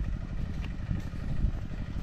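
A small irrigation pump engine runs steadily in a farm field, a low chugging drone with rapid regular firing pulses, fairly close and alone without talk.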